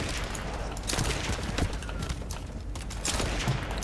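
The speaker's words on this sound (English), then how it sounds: "There's nothing more satisfying than a pistol shot." Rapid gunfire from a pistol in a shooter video game, several sharp shots in quick succession over a dense, busy combat background, loud and continuous throughout.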